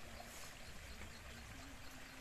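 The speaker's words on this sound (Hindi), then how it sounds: "पानी भर है वाटरफॉल में" A waterfall near Pandripani village in Bastar sends water rushing and splashing in a continuous, broadband roar, steady and fairly close, with no talking over it.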